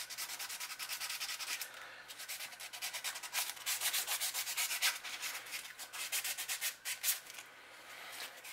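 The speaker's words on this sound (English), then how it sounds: "I just take some very light sandpaper and scuff it up" Light sandpaper scuffs the plastic body of a factory fishing lure ahead of repainting, giving a steady close-up rasping rub in short, repeated back-and-forth strokes with no talking.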